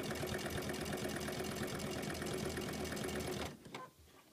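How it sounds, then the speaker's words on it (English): A sewing machine runs steadily, stitching in the ditch along the folded edge of a quilt binding, loud and close with a fast, even motor whir, then stops abruptly near the end. "I'm going to stitch in the ditch all along the edge of that quilt"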